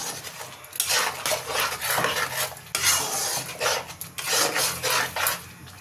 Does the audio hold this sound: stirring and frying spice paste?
yes